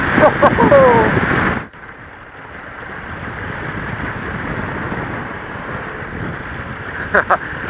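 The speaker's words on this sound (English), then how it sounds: "It's so bloody windy!" Strong wind in Freycinet National Park, Tasmania, buffets the microphone in a steady, heavy roar, with a brief louder gust at the start and a couple of sharp knocks near the end.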